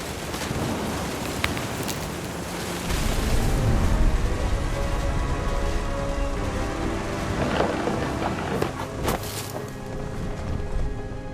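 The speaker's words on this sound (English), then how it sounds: "The thunder sounded much too close and full of angry power." A thunderstorm in the video game What Remains of Edith Finch, with steady heavy rain and deep rolling thunder swelling and fading, plus a few sharper cracks, loud and with no one talking.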